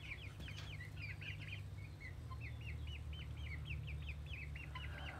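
Baby chicks peep in quick, high, repeated chirps among backyard chickens, with occasional low clucks over a steady low hum, faint and continuous throughout.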